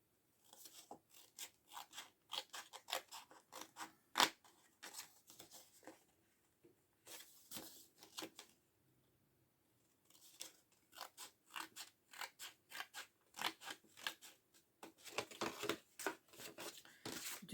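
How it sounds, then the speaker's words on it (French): Scissors snipping the ends of a handmade paper Christmas star, a series of quiet close crisp cuts in irregular clusters with short pauses, no talking. "il faut que je coupe les bouts aussi"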